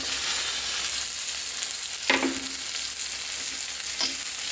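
Carrot, coriander and tomato sizzle steadily in a frying pan for a macaroni breakfast, a constant close hiss broken by two brief stirring scrapes.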